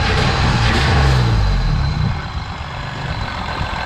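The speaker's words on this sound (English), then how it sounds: "The rattle you can hear is just the normal one that we've been dealing with for a while now, which is the gearbox." A car engine runs with a continuous low rumble and a faint mechanical rattle from its worn gearbox, steady and close throughout.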